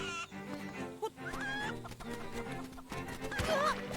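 A chicken clucks and squawks in a panic in the video game Link's Awakening, with game music and effects throughout at moderate volume.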